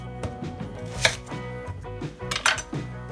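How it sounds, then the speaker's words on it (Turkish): A knife chops onion steadily on a board, quick repeated thuds close by, with faint clinks of kitchenware in the background. "soğan doğramaya başlıyoruz"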